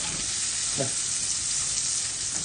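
Onions fry over high heat for risotto under continuous stirring, with a steady close hiss of sizzling and a brief scrape from the spoon.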